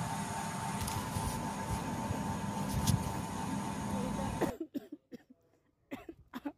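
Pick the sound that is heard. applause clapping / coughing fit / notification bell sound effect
coughing fit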